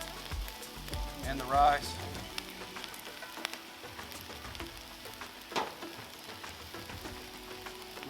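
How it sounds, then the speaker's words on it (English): Pulled pork and rice fry on a Blackstone 36-inch griddle with sesame oil, a soft steady sizzle running throughout while someone talks over it. "Pork's getting warmed up a little bit. We're gonna add a little bit of sesame oil, both the pork"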